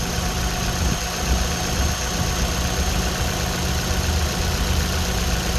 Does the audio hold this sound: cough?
no